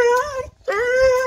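A dog whimpers and whines excitedly before being taken for a walk, two high-pitched, wavering cries close by, with a short gap between them and no talking.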